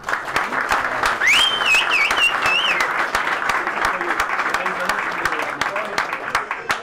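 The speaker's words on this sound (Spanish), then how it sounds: "Un aplauso para él." Crowd applause at an official European Championship boxing weigh-in: sustained clapping with sharp individual claps and a whistle rising over the middle, while a voice carries faintly through the noise.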